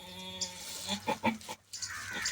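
A goat bleats repeatedly while giving birth, several short close calls rising and falling against a steady background hum, with a brief drop to near silence partway through.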